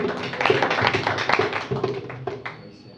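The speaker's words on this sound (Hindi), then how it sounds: "उस जिंदा खुदावन के लिए जोरदार ताली बजा दीजिए" A church congregation at a Sunday prayer service claps loudly and rapidly together, a dense burst of applause that builds and then thins out toward the end.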